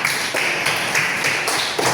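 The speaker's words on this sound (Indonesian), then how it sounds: "yang bagus tepuk tangan buat Ines, perwakilan dari kelompok hijau" A classroom group claps for a student, Ines, in a short burst of dense, even applause that fills two seconds without talk.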